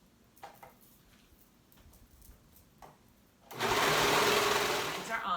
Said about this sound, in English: I'm gonna go ahead and sew this raw edge.